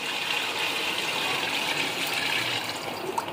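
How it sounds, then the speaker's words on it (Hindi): Water pouring into a cooking pot for beef nihari, a steady, moderately close stream with a soft gushing fill sound running continuously for a few seconds, no talking. "अब इसके अंदर डाल देंगे पानी।"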